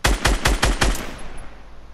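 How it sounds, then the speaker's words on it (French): Pump shotgun fire in the Fortnite video game: five sharp, loud blasts in quick succession, each with a short echoing tail that fades into quiet. "Oh, il t'a tiré au fusil à pompe."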